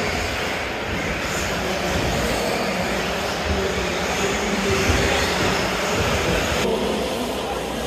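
Several 1/8 scale offroad RC cars run a warm-up lap on an indoor track, their engines a steady, loud, continuous buzzing drone with no break.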